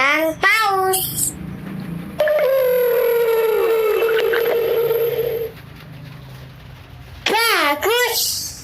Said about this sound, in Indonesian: Ikan paus.